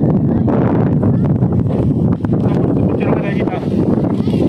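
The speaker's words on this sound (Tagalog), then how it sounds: "Ay grabe, ang hangin, oh." Strong wind buffets the microphone on an exposed mountaintop overlook in San Mateo, Rizal, a loud steady roar across the whole stretch with a brief dip midway, while a voice seems to talk underneath.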